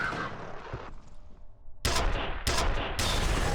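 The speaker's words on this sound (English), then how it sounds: "Here, I'll throw a grenade at them too." Grenade blast in the first-person shooter F.E.A.R., with a burst of gunfire first, then several loud broadband explosive bangs in quick succession filling the end, up close with no talk.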